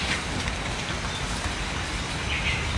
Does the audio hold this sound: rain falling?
yes